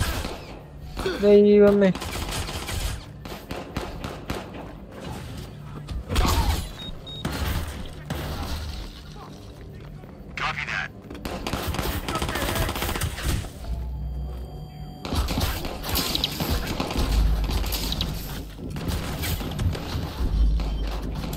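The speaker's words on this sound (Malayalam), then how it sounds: "എല്ലാ സൈഡും വെടിയാണല്ലോ." Heavy gunfire in a hacking-themed war video game, with repeated gunshots and bursts coming from several directions across the whole stretch, loud and dense, while someone talks and exclaims over it.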